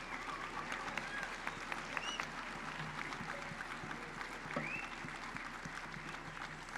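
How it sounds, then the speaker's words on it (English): A large crowd at a university commencement ceremony applauds the graduating class with steady, sustained clapping. The applause is moderately distant and even throughout, with faint crowd murmur underneath. "Could we give these graduates an early round of applause"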